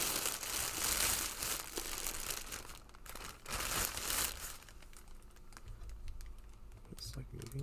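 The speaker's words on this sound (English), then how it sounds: "let's go remove her from this bubble wrap. And also this plastic" Bubble wrap and a thin plastic bag are peeled away from a packaged ball-jointed doll, giving close crinkling and tearing rustles in bursts with short pauses between them.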